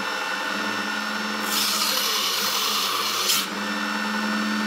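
A mini belt sander runs with a steady motor whine, then grinds harshly for about two seconds as a plastic knife is pressed against the belt to shape its edge, before settling back to the plain hum, close up with no voices.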